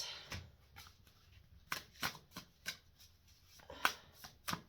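Tarot cards are shuffled in a series of quick, crisp riffling bursts, close and fairly quiet, with short pauses between each shuffle.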